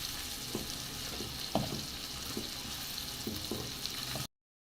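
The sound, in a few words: prawns frying in oil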